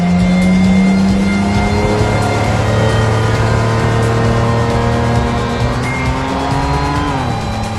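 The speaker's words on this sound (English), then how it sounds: "you hit 3000 RPM, you can hear the turbos boost in" Twin-turbocharged V12 Toyota Quantum with a three-speed pistol-shift gearbox accelerating hard past 3000 RPM, a loud, close, continuous engine roar whose pitch climbs steadily as the turbos boost, alone without talk.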